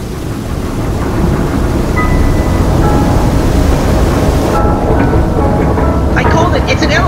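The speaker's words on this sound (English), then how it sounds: "I always wanted consistent rain." Steady heavy rain with low thunder rumbling in The Legend of Zelda: Breath of the Wild, a loud continuous broadband wash that runs throughout, with game voices and talk beneath it.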